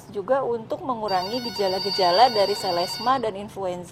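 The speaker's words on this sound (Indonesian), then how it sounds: "ini suara telepon seperti masuk nih" A telephone rings with a bright, steady electronic tone for several seconds as an incoming call, sounding under ongoing conversation between people.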